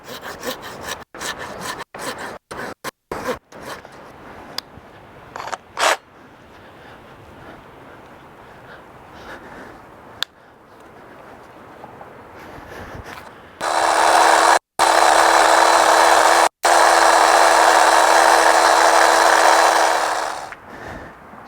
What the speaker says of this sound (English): cutting these branches out